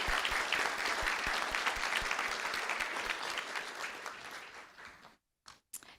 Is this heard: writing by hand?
no